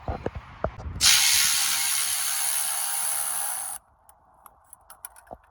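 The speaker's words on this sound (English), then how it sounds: "12 millimeter, and we'll loosen it up" A ratchet wrench loosens a 12 mm bolt on a 2015 Toyota Corolla during a water pump job. A few faint clicks lead into a near, continuous buzzing ratchet run of about three seconds, then scattered small taps.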